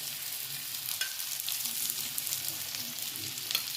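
Thalipeeth frying in a little oil on a pan, a steady soft sizzle with faint crackles throughout, fairly quiet and close, without voices.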